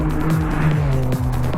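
A Ferrari 575 Maranello under hard acceleration, its engine note rising steadily and loud through a couple of gear pulls with a brief dip at a shift, close and continuous with no talk.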